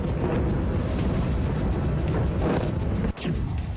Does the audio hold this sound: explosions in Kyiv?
yes